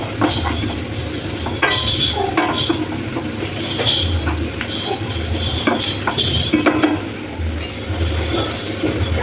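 Food frying in a pan after being flipped, part of a fasting thali for Mahashivratri, a steady sizzle with scattered utensil scrapes and clinks, close and continuous with no talk.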